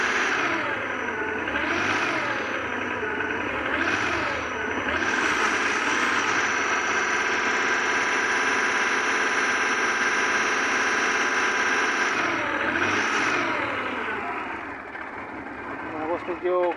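A Chevrolet Matiz engine with a weak battery and alternator runs loudly and steadily close by, its pitch swelling and dipping in repeated revs before easing off toward the end.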